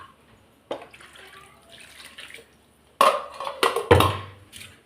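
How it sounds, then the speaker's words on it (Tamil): Water poured into a mixer-grinder jar to rinse it while cooking tomato kulambu in a home kitchen: a short splash, a quiet trickle, then louder bursts of pouring and sloshing close by. "இப்போ மிக்ஸி ஜாரை கொஞ்சம் கழுவிட்டு இந்த தண்ணி ஊற்றிப்போம்."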